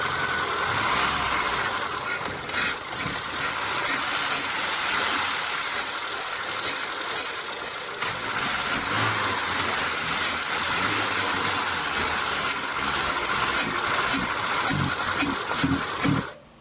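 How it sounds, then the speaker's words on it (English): A car engine runs and revs continuously during a throttle body cleaning with the engine running, a loud, steady mechanical drone with rising and falling revs and no talking. "We start the car and, while revving the engine,"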